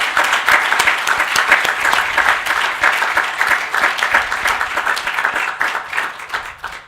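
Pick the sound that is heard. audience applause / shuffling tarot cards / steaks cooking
audience applause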